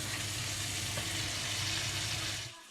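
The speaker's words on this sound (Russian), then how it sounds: "Сейчас попробуем пожарить его на сковородке." Sea bass sizzling in oil in a frying pan, seasoned with salt, pepper and spices: a loud, steady crackling hiss that holds for a couple of seconds, then cuts off abruptly near the end.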